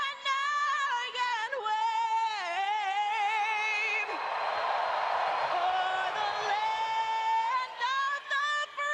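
A singer carries the national anthem before an NHL playoff game between the Tampa Bay Lightning and Florida Panthers, while a large stadium crowd sings along and cheers in a broad swell under the sustained melody.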